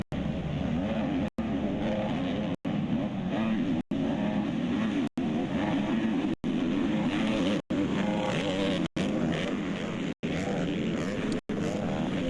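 ATVs, including a Can-Am, race around a dirt motocross-style track, their engines droning loudly and steadily at high revs, with the sound cut by regular short gaps.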